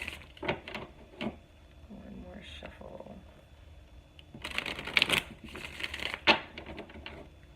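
Quick riffling bursts of cards being shuffled, papery and close, with a pause in the middle before a denser flurry of shuffling.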